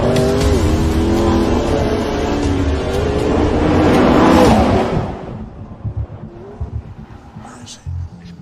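A car driven hard around the tight turns of a test track, its engine loud and revving with tyre noise for about five seconds, then the sound drops away to quieter scattered noises as it moves off.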